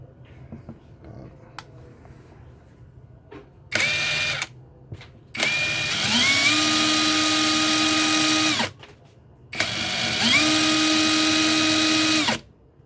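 A Monqiqi impact wrench runs in three loud bursts during an RPM test, the motor whining up and holding a steady high pitch for a few seconds each time, separated by quiet pauses.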